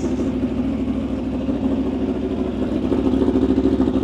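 European big bike motorcycle engine running at a steady idle with a low throbbing pulse, close and fairly loud, rising slightly toward the end, with no voices.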